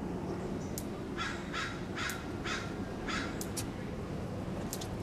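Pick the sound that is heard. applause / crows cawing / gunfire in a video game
crows cawing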